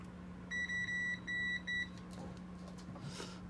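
Electronic continuity beeps from a multimeter during repair of a WG K4900 arcade monitor: five short, steady, clean tones in a quick uneven series, loud over a constant low mains hum, then fading into faint background noise.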